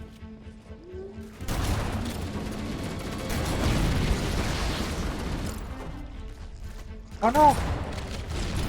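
Heavy gunfire and booming grenade explosions in a video game firefight, a broad rumbling barrage that swells and then bursts sharply near the end, with a voice calling out over the chaos.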